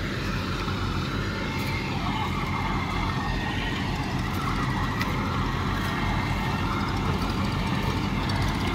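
A tractor engine runs steadily beside a mustard thresher handling damp mustard, a continuous loud mechanical drone with no pauses.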